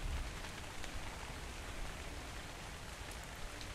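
Steady video game rain pours down, a continuous hiss of droplets with no voices, even and moderately quiet throughout.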